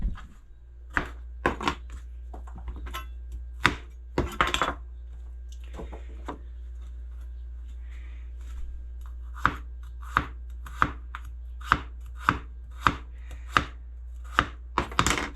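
A knife slices celtuce (Chinese lettuce) on a board, giving sharp, close knocks. A few scattered cuts come first, then a brief quiet spell, then a steady, evenly spaced run of cuts, with a low hum underneath.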